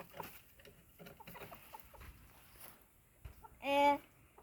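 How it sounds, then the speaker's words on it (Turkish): Soft clucking from chickens nearby, with one louder squawk near the end over a quiet background with faint movement. "Bak tavuklarımızı işte."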